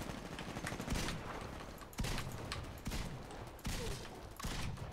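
Pistol gunfire in the video game Titanfall: several sharp shots at roughly one-second intervals, loud and close, over a dense, continuous bed of game noise and effects, with no talking.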